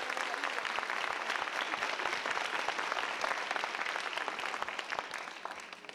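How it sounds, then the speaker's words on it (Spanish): Sustained applause from an evening theater audience at a Dominican community play performance in New York, dense steady clapping filling the whole stretch without letting up. "Un aplauso para ustedes."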